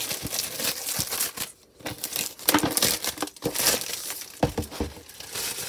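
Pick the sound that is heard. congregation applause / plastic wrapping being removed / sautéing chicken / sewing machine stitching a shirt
plastic wrapping being removed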